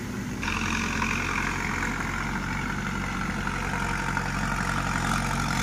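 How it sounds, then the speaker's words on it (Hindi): A tractor pulling a land leveler runs steadily across a farm field, its engine giving a continuous loud, even drone throughout with no pauses and no speech. "फील्ड में ट्रैक्टर चल रहा है"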